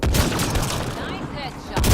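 Gunfire in the video game Mass Effect Andromeda, a loud continuous burst of shots filling the short moment, with a voice speaking briefly over it.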